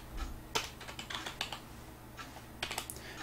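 Keys clatter on a computer keyboard as CSS code is typed, short bursts of close, crisp clicks separated by brief pauses.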